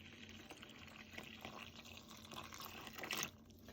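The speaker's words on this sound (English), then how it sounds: "I'll pour the water in." Water poured from above into a well made in a bowl of flour, a faint, quiet trickle and splash for a few seconds with a brief louder burst near the end, no voices.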